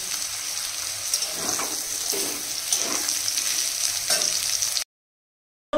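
Food frying with chillies in a home kitchen, a steady crackling sizzle with occasional stirring scrapes, close and fairly loud, ending abruptly in silence near the end with no talking.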